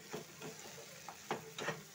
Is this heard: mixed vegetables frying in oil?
yes